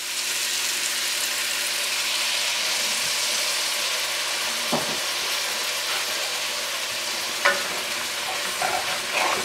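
Stewed chicken with salt and brine sizzles and fries steadily in a pot while a spoon stirs it, with a few sharp scrapes and knocks against the pot near the middle and end of the stretch.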